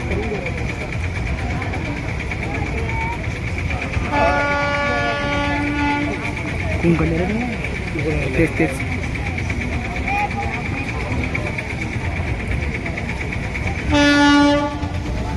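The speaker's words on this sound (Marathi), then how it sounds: "आले ट्रेन" A train pulls into Bhalki station, sounding two loud, sustained horn blasts a few seconds apart over a steady rolling rumble, with people talking nearby.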